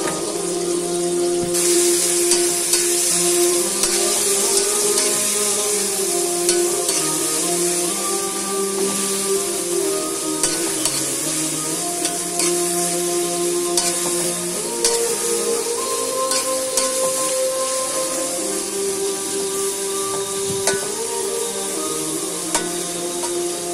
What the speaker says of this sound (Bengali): পেঁয়াজ কাটা ঢেলে নাড়তে থাকি।